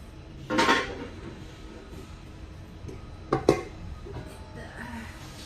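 Aluminum die-cast cookware pots knock and clink as they are handled, two brief metallic clatters with quieter taps between, in an otherwise quiet room.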